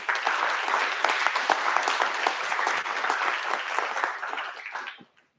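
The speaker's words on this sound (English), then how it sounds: "let's give a round of applause for the honorable mentions." An audience at a university computer graphics rendering competition gives dense, lively applause for the honorable mentions, steady for about five seconds before stopping abruptly.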